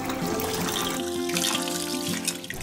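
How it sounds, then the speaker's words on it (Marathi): Rice grains being washed in water for surnali dosa batter, a steady close trickle and swish of liquid throughout with no talking. "ह्याला आपल्याला 6-7 वेळा स्वच्छ धुवून घ्यायचे"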